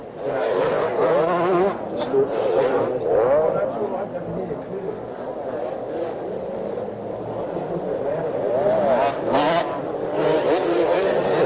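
Suzuki RM250Z motorcycles racing in a 1982 supercross at Olympic Stadium, engines revving and whining as bikes pass at varying distance, swelling and fading, mixed with crowd and a commentator's voice over the track.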